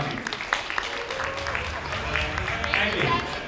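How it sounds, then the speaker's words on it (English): Baby shower guests applaud in a room, a burst of clapping from several people that carries on for a few seconds amid chatter. "huge round of applause for Krishi and Shanvi"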